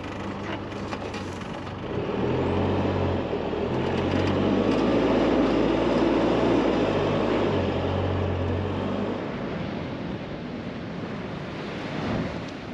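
A 4WD rumbles down a sand dune toward a beach, its low engine drone steady and close under heavy wind buffeting and surf-like roar.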